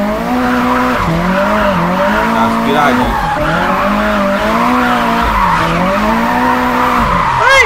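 A tuned, naturally aspirated car in the drift game Japanese Drift Master, its engine revving in rising and falling sweeps as it skids, loud and continuous, with a short spoken word partway through.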